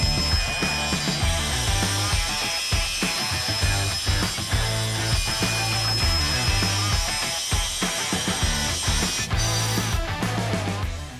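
Bizline diamond cutting disc on an angle grinder slicing through metal, a loud continuous grinding whine with rhythmic pulsing as the cut proceeds, close up and steady for the whole stretch.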